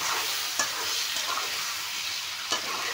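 Local chicken meat stir-fried in oil, a dense constant sizzle broken by a couple of sharp utensil scrapes against the pan.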